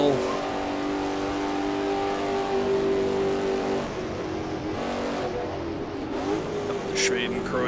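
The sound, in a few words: race car engine roaring in Assetto Corsa video game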